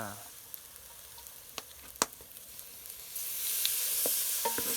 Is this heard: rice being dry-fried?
yes